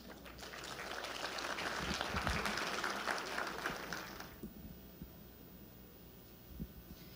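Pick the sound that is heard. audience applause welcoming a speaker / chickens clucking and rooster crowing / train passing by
audience applause welcoming a speaker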